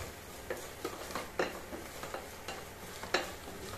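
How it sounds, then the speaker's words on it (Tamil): Chilli powder masala stirred in a pan for biryani, with a series of light scraping strokes at an irregular pace over a faint, steady sizzle, close by and fairly quiet. "சும்மா இந்த பக்கம் ஒரு கலக் அந்த பக்கம் ஒரு கலக்குன்னு சொல்லிட்டு சும்மா கலக்குன்னு மிக்ஸ் பண்ணுறோம்"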